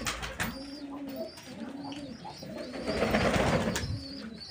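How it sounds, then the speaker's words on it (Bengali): Pigeons of an old-generation loft strain coo repeatedly while feeding, soft throaty calls overlapping nearby, with scattered faint chirps and shuffling. "পায়রা মানে কেমন খাচ্ছে দেখুন।"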